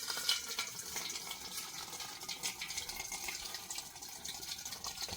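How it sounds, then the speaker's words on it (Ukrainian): Strained fungicide spray mixture pours steadily into a garden sprayer tank, a soft continuous splashing gush of liquid heard up close and fairly quietly for several seconds. "Так, акуратненько зараз заливаємо цю суміш."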